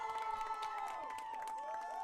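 A soccer playoff crowd cheers a Mustangs goal, a faint, distant swell of voices with whistles and shouts blending together.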